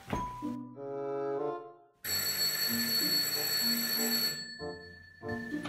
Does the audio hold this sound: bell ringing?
yes